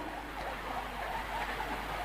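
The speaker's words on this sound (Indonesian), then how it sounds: "Oh, ana ambulan ya noleh." An ambulance siren wails faintly in the distance with a rising and falling tone over steady background noise, and no one speaks.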